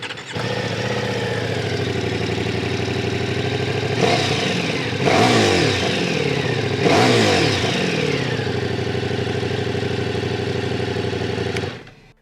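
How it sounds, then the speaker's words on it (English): A 2023 Ducati Diavel V4 motorcycle fires up and settles into a loud, close idle, then gets three sharp throttle blips that rise and fall before the engine cuts off. "let me start the bike."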